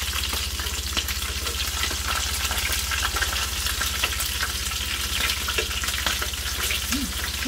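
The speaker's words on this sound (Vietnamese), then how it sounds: "Sườn ấy cứ chín vàng vàng như này được, dễ giòn, rất là giòn." Pork ribs coated in corn starch fry in hot oil, giving a steady, close sizzle with crackling pops throughout and no talk.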